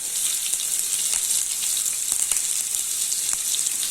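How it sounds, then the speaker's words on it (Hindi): Chopped onions and green chillies sizzle in a pan of mutton keema, a steady hissing fry with scattered crackles and pops, close and moderately loud, with no talking. "अभी इसमें कटे हुए ऑनियन ऐड कर देते हैं"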